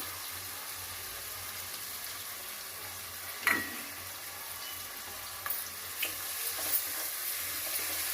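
A moong dal and fenugreek leaf curry cooks in a pan with a soft, steady sizzle, broken by a few brief scrapes and clinks from stirring, heard close and without talking.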